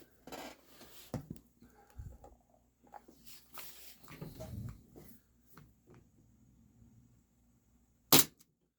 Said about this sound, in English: This will be the first shot off of fresh CO2, 15 rounds.